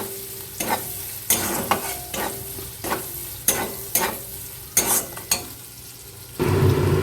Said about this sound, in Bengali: এবার আদা রসুনের পেস্টটাকে ভালো করে মিক্সড করে নেব